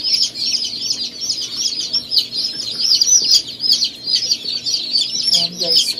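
Newly hatched chicks inside an incubator chirp constantly, a dense, high-pitched chorus of overlapping peeps that stays loud and close throughout with a faint background hum.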